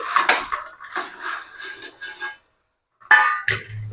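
Dried lentil dumplings (sandge) tipped into a pan of fried spice masala with oil, giving close, loud hard clattering and rattling in several bursts, then a short pause and another clatter.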